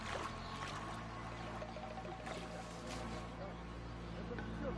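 A boat motor in the Xbox 360 game Sniper Ghost Warrior 2 gives a steady, continuous engine drone that fills the clip at even loudness, with faint voices over it.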